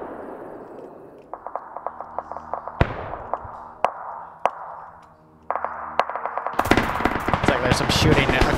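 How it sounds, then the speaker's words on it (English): Video game gunfire: scattered sharp single shots and a few heavy booms over a low rumble, then a loud, dense burst of rapid fire near the end, with no talk. "Shooting occurring over here."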